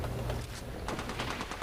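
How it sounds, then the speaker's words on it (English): Rapid bursts of gunfire from Apex Legends Arenas on Xbox, fairly quiet and muffled, with a steady background hum and sharper volleys cracking through in the second half. "I am taking fire, friends."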